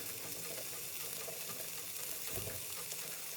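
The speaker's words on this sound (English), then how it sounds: "in a non-stick pan that's been heated up, start putting inside your guanciale. It's starting to cook up straight away" Guanciale sizzles in a hot non-stick pan with a soft, steady crackling hiss and a brief stir or scrape partway through, faint and close.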